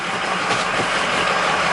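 A 2007 Ford F350 truck engine running steadily, a continuous broadband drone with a low rumble heard close up, with no voices over it.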